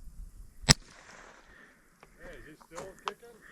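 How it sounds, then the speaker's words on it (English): A single sharp gunshot cracks once near the start, loud and close, fired at an alligator in a Louisiana swamp, followed by quieter rustling and voices talking. "I'm gonna shoot him again."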